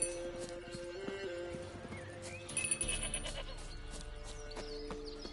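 Goat in The Witcher 3 video game: hooves clip-clop and short bleating calls over a soft outdoor ambience, with a few brief louder animal cries midway.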